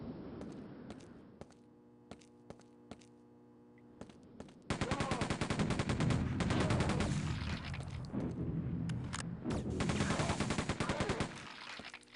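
Rapid gunfire from the shooter Quake comes in dense, loud automatic bursts after a few isolated single shots, running steadily over a constant electrical hum.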